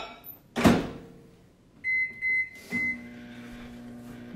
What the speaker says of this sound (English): So, I have my microwave here.